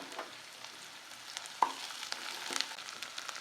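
Ginger garlic paste sizzles and fries in a pan, a soft crackling hiss with occasional scraping stirs and small pops.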